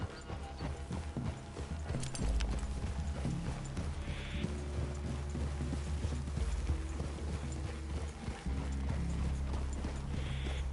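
Horse hooves clip-clopping steadily at a walking pace, with occasional creaks and rattles of tack alongside, in the video game Red Dead Redemption 2.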